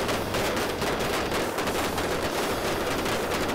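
Rapid gunfire crackles in dense bursts like a machine gun, sustained and moderately loud throughout with no pauses and no voices.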